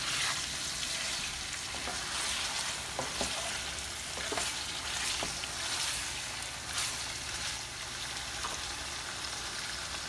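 Goat ribs fry in a pan with a dense, even hiss of sizzling oil and a few faint stirring scrapes, heard close but at a soft level, with no voices.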